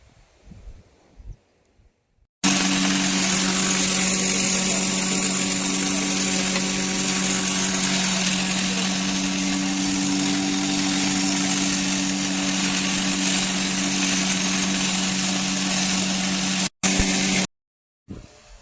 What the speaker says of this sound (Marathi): बाहेर जे दळण आहेत ना कस्टमरचे ते दळण पण दळण्यासाठी टाकले आहेत